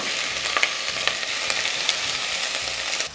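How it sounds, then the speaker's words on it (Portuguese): Chicken trimmings and carcass sizzle and crackle in hot olive oil in a pot without a nonstick bottom, a steady close frying hiss with scattered pops and no talking. "Vou colocar o azeite aqui para esquentar. Em seguida, vou colocar umas aparas de frango."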